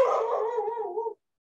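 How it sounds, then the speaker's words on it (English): A single drawn-out, howling dog bark, loud and close, clear and alone and lasting about a second before cutting to silence. "Oh, Dasha, that's my dog."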